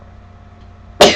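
A single sharp sneeze bursts out close and loud at the very end, after a quiet room stillness.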